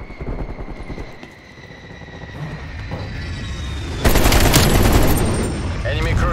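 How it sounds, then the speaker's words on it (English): Strafe-run gunfire in Call of Duty Black Ops Cold War multiplayer: rapid automatic bursts and aircraft roar that swell into a loud, dense barrage of impacts halfway through, continuing to the end. "Strafe run incoming on your location."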